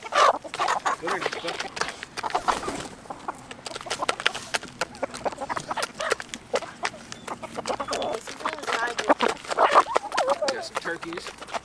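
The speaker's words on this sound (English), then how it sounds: "Turkeys. We got two turkeys." Two farm turkeys gobbling and clucking repeatedly in an outdoor garden setting, close and fairly loud, with a person talking intermittently over the birds.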